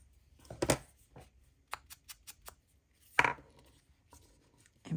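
Scissors trim the corner off a CD envelope page in a crafting project, making a series of close, crisp paper snips at an uneven pace.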